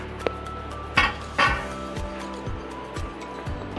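A metal utensil scrapes and clinks against a kadhai in steady, repeated strokes, dry roasting barnyard millet (vari rice), with one or two sharper knocks near the start.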